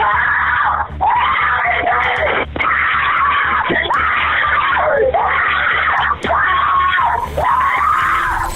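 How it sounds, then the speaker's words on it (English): A woman screams in pain during a 911 emergency call, the cries coming in long, repeated wailing waves through a narrow, phone-filtered line. "That was followed by pained screams."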